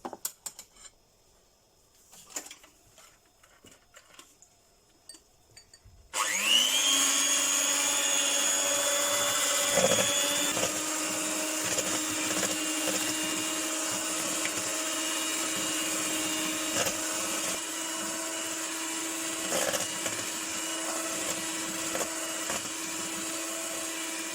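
After a few seconds of faint clatter, an electric hand mixer switches on to mix cornbread batter and whirs steadily at a constant pitch, close and loud, until the end.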